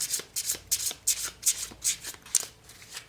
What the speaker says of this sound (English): Let's pull a couple more cards on this.